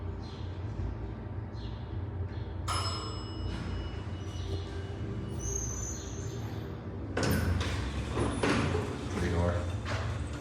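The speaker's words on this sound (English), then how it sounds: "Let's send this one up to a different. Let's send this one to a different floor, and we'll get the other car." Sliding doors of a 1970s Haughton scenic elevator in a parking garage in Toledo, Ohio, rumble open and closed with a thud, layered over steady low machinery hum and some background talk.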